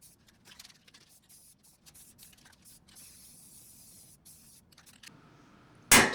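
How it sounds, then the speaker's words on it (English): A spray paint can lays down self-etching primer and red paint, heard as a faint hiss that ends in a short, loud burst of spray near the end. "The final step in fabrication was a rattle can paint job."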